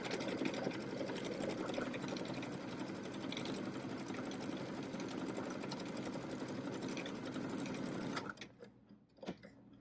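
A home embroidery sewing machine stitches a quilting block on an embroidery hoop, its steady motor hum and rapid needle chatter running continuously for about eight seconds before stopping, followed by a few faint clicks.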